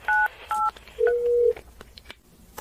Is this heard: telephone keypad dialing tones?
yes